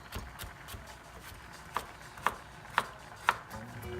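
A knife cuts carrots on a bias against a cutting board, four crisp, evenly spaced chops ringing out close and clear over a quiet kitchen background.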